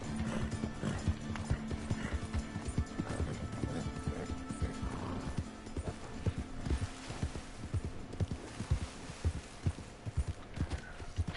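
Horses gallop in Red Dead Redemption 2, a dense, steady clip-clop of hooves close by for the whole stretch, with occasional neighs and whinnies breaking through.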